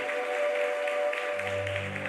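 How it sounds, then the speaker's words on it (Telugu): A worship congregation claps together in a dense, continuous patter over sustained music, with no break in the applause. "ఇంకా బిగ్గరగా చప్పట్లు కొడదామండి"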